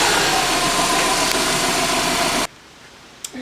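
Subaru Impreza with a 2.0-litre EJ20 engine idling after an oil change, a steady close rumble that cuts off sharply partway through, leaving near silence with a small knock near the end.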